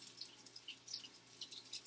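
Tap water trickles and splashes at a bathroom sink as makeup brushes are rinsed under the stream, a soft, steady, close running-water sound with small drips, no voices.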